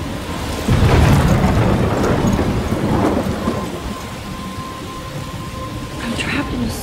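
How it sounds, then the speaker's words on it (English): A thunderstorm from the video game Life is Strange: a heavy crack and rolling rumble of thunder over steady rain hitting surfaces, then easing to a softer downpour, with some speech mixed in. "I'm trapped in a storm?"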